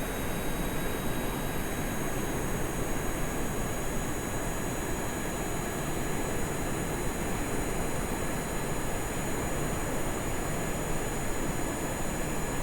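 An aircraft engine runs at maximum throttle in the video game Stone to Space, giving a steady, unbroken broadband drone of even loudness throughout, with no talking.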